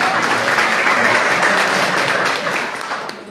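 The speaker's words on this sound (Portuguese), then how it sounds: "Aplausos para a nossa professora." A class audience applauds its teacher during an urban evangelism lesson, steady close clapping that tapers off toward the end.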